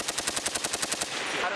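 An M240 machine gun fires a rapid, even burst of about a dozen sharp shots on a Marine range at Camp Hansen, Okinawa, close and loud, ending in a brief echoing tail.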